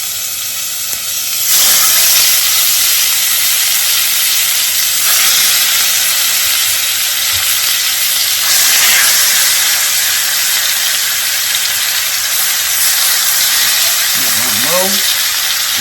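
A pot of smoked neck bones boiling for greens gives a loud, steady hiss with bursts of roiling steam, close up, and a voice briefly cuts in near the end.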